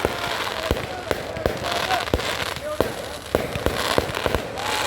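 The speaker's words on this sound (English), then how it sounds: "after this amazing fireworks show" Fireworks show exploding outdoors, a run of sharp booming bursts at irregular intervals over a continuous crackling, hissing wash, loud and fairly close, with some voices in the background.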